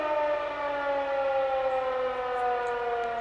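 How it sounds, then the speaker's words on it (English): A tornado siren sounds its monthly test, wailing steadily in one long sustained tone, rising slightly in pitch, heard alone with no talking. "Those are tornado sirens that you hear in the background"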